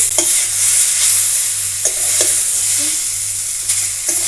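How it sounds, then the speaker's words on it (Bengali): Jackfruit pieces frying in a pan, a constant loud sizzle with a few scattered scrapes and taps of a stirring spoon against the metal. "এঁচোড়টা আমি ভাজা ভাজা করে নিয়েছি।"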